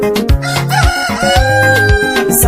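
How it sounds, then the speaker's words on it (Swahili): A rooster crows loudly within a song, its repeated cock-a-doodle-doo calls set over steady music with a bass beat. "Nani amekudanganya eti jogoo la shamba haliwiki mjini?"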